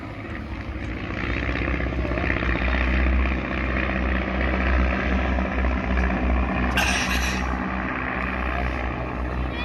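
An old biplane of a display team flying in formation at an air festival, a steady droning propeller engine hum that swells slightly and holds, moderately near, with a brief hiss late on.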